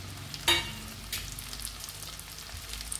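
Chopped onion and capsicum sizzle in a hot pan for Odia-style chilli chicken, a steady soft frying hiss with a couple of brief stirring clatters near the start.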